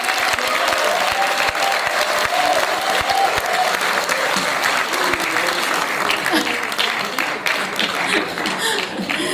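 A crowd at a fair-election civic event applauds loudly and continuously, dense clapping filling the whole stretch with scattered voices mixed in.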